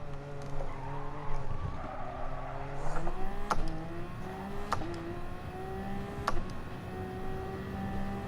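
A race car brakes and downshifts into a corner on a lap, its engine note dropping through several gear changes with sharp shifts and a faint tire squeal, heard from inside at moderate level.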